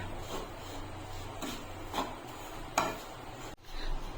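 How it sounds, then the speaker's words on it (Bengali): Flour is worked into ghee in a pan, making quiet, intermittent scraping and rubbing strokes of a spoon against the pan over a soft background hiss. "এখন ঘিয়ের সঙ্গে ভালো করে মিশিয়ে নেবো ময়দাটাকে।"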